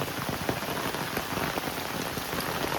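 Heavy rain pours steadily in a village outdoors, a dense, even hiss of drops drumming on surfaces, close and continuous for the whole stretch with no voices.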